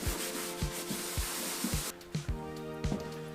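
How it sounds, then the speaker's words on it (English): A Scotch-Brite pad scuffs the surface of a kayak in close, rhythmic back-and-forth strokes, about ten rasping rubs with short pauses between them and no talking. "we're gonna scuff it up with a Scotch-Brite really well"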